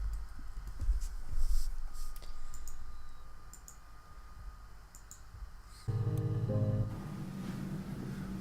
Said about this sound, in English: I'm gonna type that down.